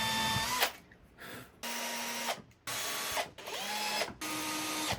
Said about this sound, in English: Pre-drilling makes this much easier.